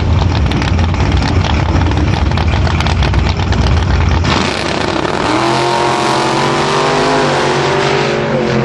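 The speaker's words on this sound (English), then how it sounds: "the big cubic inch engine's going to haul that Grand Sport Buick 133 miles an hour" A drag race launch pits a big-block Grand Sport Buick against a 1983 Datsun: a loud, sustained engine roar with racing revs breaks abruptly midway into a smoother, rising, fading drone as the cars pull away.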